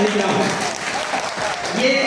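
Urdu mushaira audience applauding, a loud continuous spread of clapping from a large crowd, steady from start to finish with voices mixed into it.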